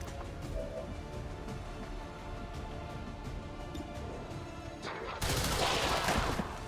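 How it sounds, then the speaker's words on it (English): Rapid gunfire crackles in XCOM 2: War of the Chosen over a busy, steady game soundscape. A loud, dense burst of shots erupts near the end of the clip. "First shot won't kill this guy, but we can actually just shoot again"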